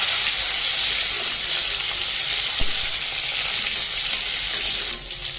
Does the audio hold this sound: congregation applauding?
no